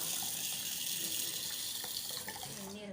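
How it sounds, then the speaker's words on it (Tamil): Water runs steadily into a bowl of washed green gram (mung beans), filling it until the beans are covered. The close, continuous pour lasts about three seconds and stops at the end. "இப்போ இது மூழ்கிற அளவுக்கு நம்ம வந்து தண்ணி ஆட் பண்ணிடலாம்"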